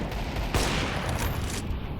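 Rapid AK rifle gunfire in Counter-Strike 2 during a competitive match, sharp bursts over dense, constant in-game noise, with the loudest shots near the middle and again toward the end.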